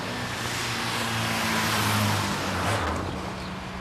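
A blue Ford Sierra speeds away with police in pursuit, its engine droning steadily and loudly close by, with faint hum layers and no voices.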